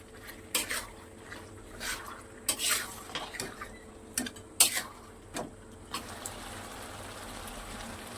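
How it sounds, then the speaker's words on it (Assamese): Mutton head meat stir-frying with spices in a pan, with repeated sharp scrapes and clanks of a spatula against metal in an irregular rhythm over a faint sizzle, close by and with no talking. "মই 2-3 মিনিট ভাজি আছোঁ"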